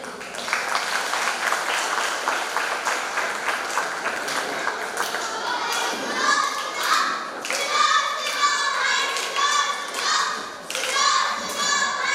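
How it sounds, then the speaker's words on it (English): School audience at an investiture ceremony applauding young children aged three to seven performing a street play. Clapping opens the clip, then children's voices and chants take over, with claps and thumps mixed in. "We urge you to applaud our tiny tots enthusiastically"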